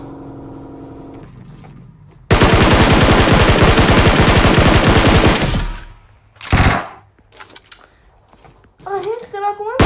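Rapid automatic gunfire from PUBG Mobile gameplay bursts out loud and dense for about three seconds, followed by scattered game sounds and short clattering noises.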